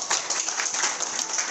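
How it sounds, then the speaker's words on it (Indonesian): Steady, dense audience applause for Nagaya at an Indonesian seminar on choosing assets, a continuous close wash of many hands clapping with no talk over it. "Tepuk tangan dulu dong untuk Nagaya"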